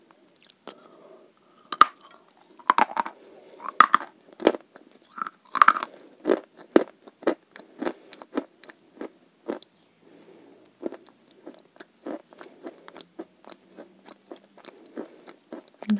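Close, crisp bites and steady chewing of a dry, sandy-textured variety eaten with a fatty paste, with sharp crunches at irregular intervals and no talking.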